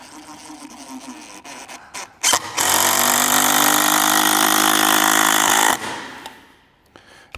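A DEWALT entry-level drill at speed 2 drives a screw with a Phillips bit in one loud, steady whirring burst of about three and a half seconds, preceded by a few short clicks and followed by quiet.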